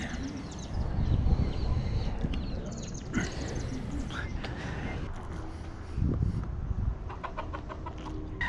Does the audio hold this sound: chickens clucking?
yes